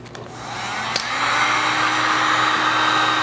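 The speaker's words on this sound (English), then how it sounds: "going to take a heat gun and we're going to heat this to get the double-sided tape that holds these on loose" A heat gun blows steadily while warming the double-sided tape adhesive under an Anzo LED tailgate cap, a continuous close airy roar that builds slightly after a brief click near the start.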